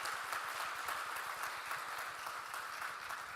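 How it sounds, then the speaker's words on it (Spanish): Church congregation applauding for the Lord, a dense, steady wash of many hands clapping continuously at moderate loudness throughout, with no speech over it. "Es fuerte el aplauso al Señor."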